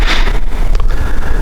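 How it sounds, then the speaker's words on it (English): Gusty wind blows outdoors on a Kentucky morning, a steady rushing roar that rises and falls in broad swells close to the microphone, with no voices. "It's a little gusty, a little windy."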